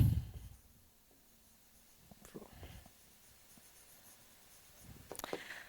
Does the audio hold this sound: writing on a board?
yes